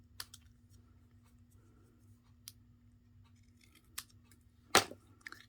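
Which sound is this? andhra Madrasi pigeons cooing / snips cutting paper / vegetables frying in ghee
snips cutting paper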